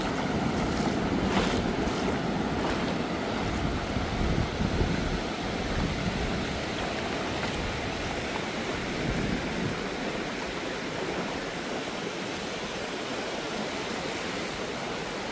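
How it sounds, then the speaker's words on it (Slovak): Large waves break on a white-sand beach at Salalah, Oman, making a constant heavy roar of surf that swells and rolls without pause, loud and close, with no voices. "tento oceán má obrovské vlny"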